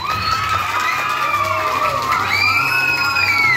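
Schoolchildren at a school posada at Escuela Luis Gzz y Gzz in Misión San Juan, with a loud, close crowd of young voices cheering and shrieking continuously, with faint clapping mixed in beneath the shouting.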